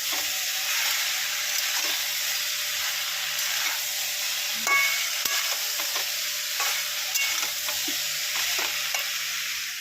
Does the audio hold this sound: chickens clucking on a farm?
no